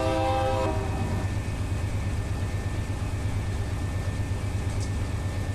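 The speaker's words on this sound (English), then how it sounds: "Now, I love hearing that turbo wind up." A diesel locomotive's turbo winds up in the Run 8 Train Simulator game, a loud, steady low engine drone that builds, with a brief horn-like tone at the start.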